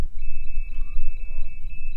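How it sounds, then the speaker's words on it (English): A personal alarm in full alarm sounds a continuous high electronic tone with a rapid beeping pulse over it, steady and loud, against low background rumble. "Now full alarm."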